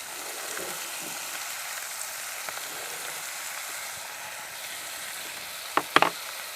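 Onion, curry leaves and ginger frying in a pan for a Kerala onion dish, a soft even sizzle held low and steady, ending in a couple of sharp spatula clinks, no talking.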